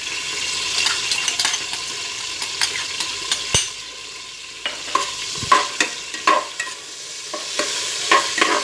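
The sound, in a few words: garlic sautéing in cooking oil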